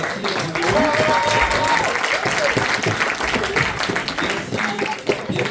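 Audience at a school concert applauds loudly and continuously, a dense roar of clapping from a large crowd with voices and cheers mixed in, holding steady throughout.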